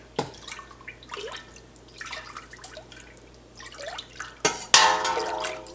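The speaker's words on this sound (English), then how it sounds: "once you believe the rennet is fully stirred in" Rennet being stirred into warm milk for farmhouse cheddar, soft liquid swishes and drips recurring every second or so, ending in a louder splashy burst of sloshing near the end.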